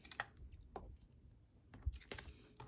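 Scissors snip paper strips at a tabletop craft session making a Christmas Little Golden Book, giving a few quiet, crisp cuts spaced irregularly with no talking.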